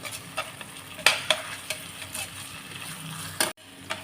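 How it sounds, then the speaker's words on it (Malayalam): Ginger garlic paste sautés in a pan with a steady low sizzle, punctuated by several sharp clicks and scrapes of a spoon against the metal, then a brief cut to near silence. "ജിഞ്ചർ ഗാർലിക് പേസ്റ്റ് ഇട്ട് കൊടുക്കുക. പച്ച മണം മാറുന്നവരെ വഴറ്റി കൊടുക്കുക."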